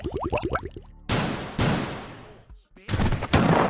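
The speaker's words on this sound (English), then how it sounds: "I like how you added your own gunshot around as well, Amiga." Added gunshot sound effects layered over voices, several sharp bursts cracking loudly in quick succession, each with a long decaying tail, while people talk at the start.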